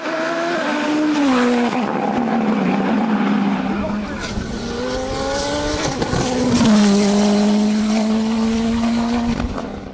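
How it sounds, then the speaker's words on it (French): A Nova Proto NP01 Turbo prototype race car climbs a hill climb course in Limonest, its engine note rising and falling through gear changes, loud and close, with a commentator talking over it. "Marc Pernaut doit se contenter de la 4e place du classement Scratch sur sa Nova Proto NP01 Turbo"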